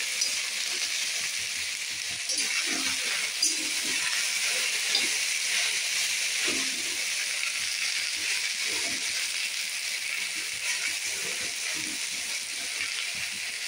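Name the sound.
okra frying in pan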